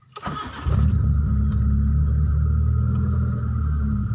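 An E-car with a 4G92 engine starting: a brief cranking whir that quickly catches into a steady, close, rumbling idle that holds for several seconds.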